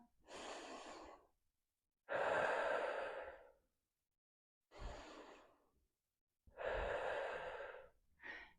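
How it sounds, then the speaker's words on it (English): Four slow, deep breaths during a full-body yoga flow, each long airy inhale or exhale close and distinct, separated by short pauses, with a brief fifth breath at the end; no talking. "Take 2 deep breaths in here."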